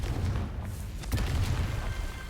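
Confringo spell blast in the video game Hogwarts Legacy, a deep rumbling boom with sustained low roar and a sharper crack about midway, loud and close with no talking.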